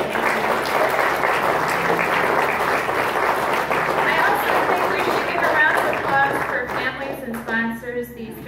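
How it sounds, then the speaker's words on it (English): A congregation applauds a church confirmation class, a thick, loud crowd of clapping hands that rolls on steadily, with voices mixed underneath, then thins out and fades toward the end. "I think it's appropriate to have a round of applause."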